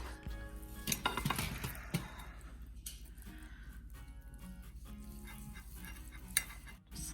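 A knife slices through slow cooker pork loin on a kitchen counter, with scattered clinks and scrapes of utensil against plate over a low, steady room hum; no one speaks.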